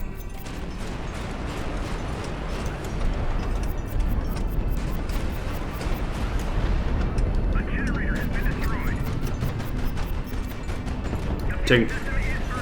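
Ship guns fire in a Highfleet video game battle, a rapid train of regular thumping shots over mechanical rumble, with a voice talking over the steady barrage.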